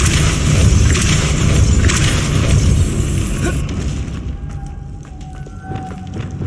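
Confringo spell blasting in Hogwarts Legacy: a loud, roaring burst of fiery explosion that fills the first few seconds, then drops away into quieter crackling and ambient game sounds.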